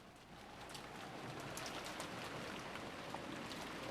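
Wind and rain ambience from the visual novel game Umineko: When They Cry, a steady wash of rainfall with scattered drop patter and soft gusts, even and unbroken.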